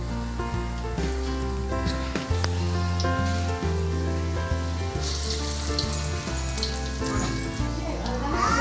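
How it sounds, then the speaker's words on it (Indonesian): Urad dal vada, ball-sized dumplings of ground lentil batter, frying in hot oil with a steady loud sizzle and bubbling, accompanied by background music and no talk. "goreng hingga dia masak ya"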